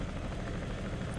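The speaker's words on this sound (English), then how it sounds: "I have to use this helicopter." A helicopter in the war video game Broken Arrow drones loudly and steadily, its dense rotor thrum filling the whole moment with no talking over it.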